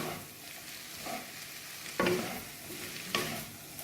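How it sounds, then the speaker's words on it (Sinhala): Chinese noodles tossed in a hot pan with two spoons, a soft continuous sizzle broken by a few sharp clinks and scrapes of the spoons against the metal, close and fairly quiet, no talk. "මේ වගේ හැඳි දෙකක් අරගෙන මික්ස් කරන්න."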